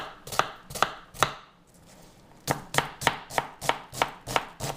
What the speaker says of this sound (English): The plan is I'm going to chop up the onions and the garlic.